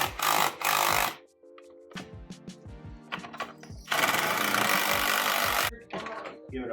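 Mechanical clanks and ratcheting bursts from tightening the ski bolts on a ZR 7000 Viper snowmobile, with loud broadband rattling at the start and again midway, separated by quieter metallic ticks and taps.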